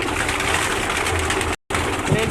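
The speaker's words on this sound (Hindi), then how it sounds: "उस्ताद चौधरी सखी मोहम्मद भट्टी साहब के ये कबूतर, शानदार कबूतर आपको दिखा रहे हैं।" Fancy pigeons belonging to a Lahore flying-pigeon fancier coo softly against a steady outdoor background, with a brief dropout midway and faint voices nearby.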